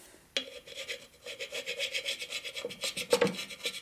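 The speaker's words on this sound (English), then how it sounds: "you can use a file also" A hand file rasps against aluminum on a Harley twin cam cylinder case in a series of rhythmic, close strokes, each a short scraping burst, with a sharper stroke near the end and no talking.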